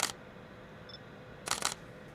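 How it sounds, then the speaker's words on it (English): A Lumix S1 II camera fires its shutter up close: one crisp mechanical click, then a quick double snap a moment later, loud and clear against quiet room tone. "it has a really, really nice shutter sound"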